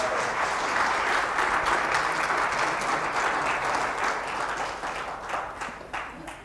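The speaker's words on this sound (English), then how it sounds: "Give the Lord a hand clap of praise." Church congregation breaks into a steady wash of applause in praise, dense hand clapping from many people filling the room, loud and sustained before gradually thinning out toward the end.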